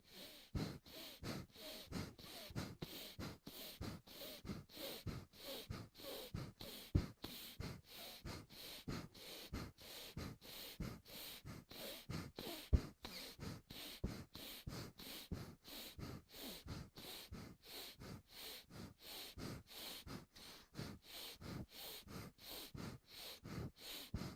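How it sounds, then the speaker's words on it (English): Rapid, evenly pumped breaths through alternating nostrils during a pranayama practice, a steady train of sharp exhale bursts repeating about twice per second, close and soft, with no talking over them. "Close the right, open the left, exhale with a pump."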